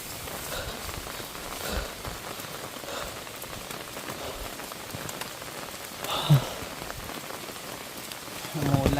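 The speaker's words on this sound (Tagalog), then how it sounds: "Umuulan." Steady rain falls on surfaces on a mountain, a dense continuous patter with a few louder drops and brief bumps, with no talk over it.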